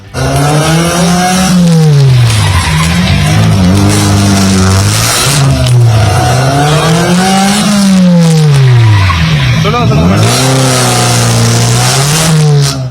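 Yellow race cars during a practice session braking hard, engines roaring and pitch sweeping down and up as tires skid and squeal; loud, close and continuous, with no talking.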